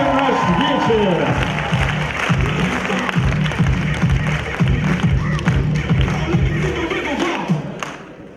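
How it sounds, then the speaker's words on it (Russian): A loud crowd at an evening master's program event claps to open the night, a thick continuous roar of applause with rhythmic thumps beneath and voices mixed in, easing slightly toward the end. "давайте такими же громкими аплодисментами начнем вечер магистратуры"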